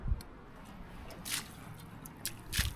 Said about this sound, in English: Let's rinse the lid.